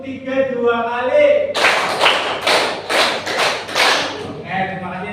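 Classroom of pupils clapping in unison during an ice-breaking clapping game, a run of sharp, loud group claps in rhythmic bursts, with a teacher's voice briefly before and after.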